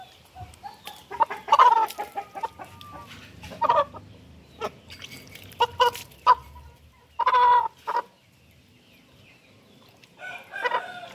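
A chicken being bathed and dunked in water clucks in short, irregular bursts, some loud and close and others softer, with brief pauses between them.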